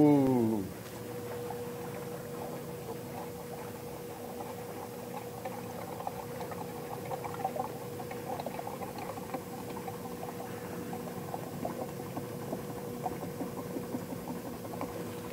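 A household ice cream maker churns key lime pie ice cream made from mix, sugar, key lime pie filling and lime juice. A louder jolt at startup settles into a steady motor drone with faint rattles.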